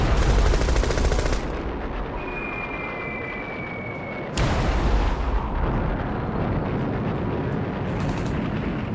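Dense anti-aircraft fire thrown up against aged Douglas Devastator torpedo bombers attacking Japanese carriers at the Battle of Midway, a loud continuous roar of guns and blasts with a sharp new burst of firing partway through.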